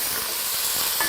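Onions and garlic sizzling in a pan, a brief close, steady hiss of frying.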